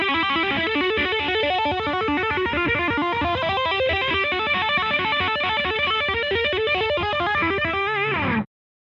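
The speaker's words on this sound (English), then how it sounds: "The asymmetrical sine wave is modeled after some vintage phasers of the 70s." An Empress Phaser 2 guitar pedal sweeps with an asymmetrical, swung sine wave modeled on 1970s phasers, giving a steady, loud, evenly repeating whoosh over sustained guitar notes that stops abruptly near the end.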